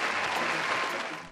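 Applause from a studio audience on a Turkish entertainment show, a dense steady burst of clapping that fills the moment and tails off slightly at the end.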